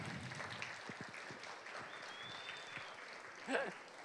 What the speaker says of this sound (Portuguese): Uma salva de palmas para o pastor